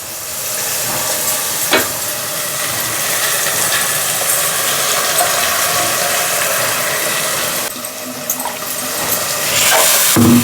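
Masala sizzles in hot oil in a pan for a village-style kappavare saaru, giving a steady, loud frying hiss with occasional scraping clinks of a spoon stirring.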